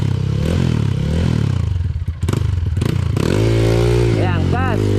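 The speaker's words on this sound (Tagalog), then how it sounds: "Tapos bigyan mo na ng gas para dumiretso yung motor mo." A trail motorcycle engine revs up on the throttle close by, with rising and falling pitch, a brief dip partway through and clattering mechanical noise, while people talk over it.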